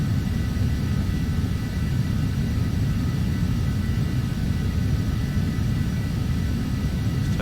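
Steady, loud jet engine drone of a Phenom 300 in the Prepar3d flight simulator during descent, a continuous broadband rumble with a faint tonal whine, unchanging throughout with no talking.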